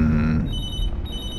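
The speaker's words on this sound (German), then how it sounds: "Telefon?" A telephone rings inside an apartment in the video game Beyond: Two Souls, a steady electronic ringing tone heard loud and close with no speech over it.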